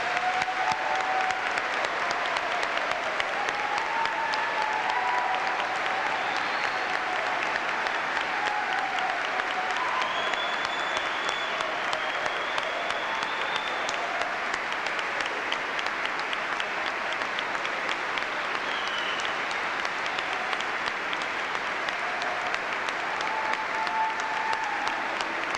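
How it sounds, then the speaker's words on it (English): A large commencement audience applauds steadily and continuously, a dense sustained wash of clapping with a few cheers, loud and even throughout. "let's all give them a rousing round of applause"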